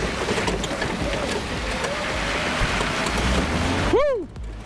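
An Afiscooter C4 electric scooter rides over rough farm terrain, giving a steady, loud rumble of wind and rolling noise that fades into a short chirping pitch sweep near the end.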